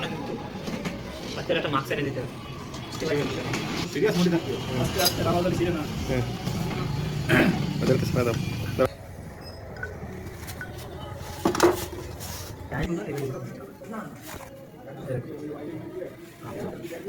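Tools clink while a KTM motorcycle engine is taken apart in a bike workshop: scattered sharp metallic taps, close by, under ongoing talk.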